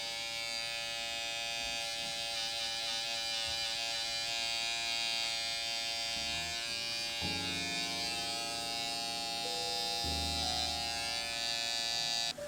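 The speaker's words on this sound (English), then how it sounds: "use the corner of the blade if you have a TI liner or if you have any other trimmer" An electric hair trimmer buzzes steadily as it edges a self-cut haircut, a close, continuous whine whose pitch and load change as the blade corner meets hair.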